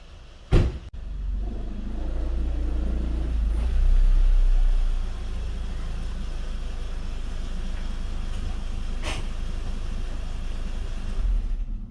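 A 2004 Audi B6 A4 Quattro with a 1.8T engine and six-speed manual rolls slowly into a garage, a steady low idle and light throttle hum after a sharp thump at the start, close and continuous.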